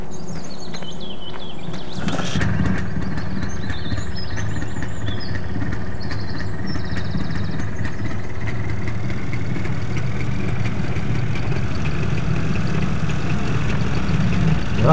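Motorcycle engine from a mod in the Farming Simulator 2013 video game, a steady idling drone that runs continuously, loud and close throughout, with a brief sharp burst near the start and faint chirping game ambience above.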